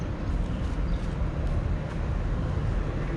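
A power plant beside a lakeside state park campground gives off a steady, loud low rumble with no letup, much like a freight train that keeps going. It sits close and never breaks.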